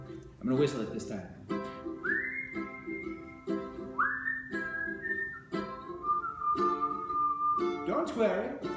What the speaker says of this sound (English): I'm gonna whistle it this time.